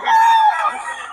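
A stag rooster crows once, close and loud, at a busy gamefowl market in Bocaue: a single strained, sustained call that trails off raggedly.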